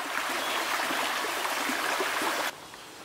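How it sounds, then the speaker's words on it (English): Fast, deep river water in northern Minnesota rushes in a steady, close hiss and gurgle, then drops abruptly quieter near the end. "that water is really moving quite fast right here where it's deep"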